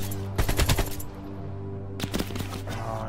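Automatic gunfire in Call of Duty: Black Ops Cold War, two rapid bursts of sharp shots about a second apart, loud and close over a steady low game hum, with no talking.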